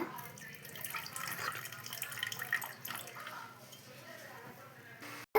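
Wet, squishy stirring of water into batter for homemade kurkure, with faint dripping and splashing of water, steady and close, under a soft background hum.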